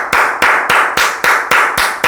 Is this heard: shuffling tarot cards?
no